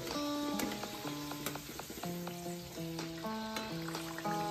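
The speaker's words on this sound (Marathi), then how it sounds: "तेल फार कडलेलं आहे, गरम आहे, त्यामुळं त्या कढईत बसतील तेवढे समोसे आपण घ्यायचे आहेत" Samosas deep-frying in very hot oil in a kadhai give a steady close sizzle, with bright musical tones and clinks running over it throughout.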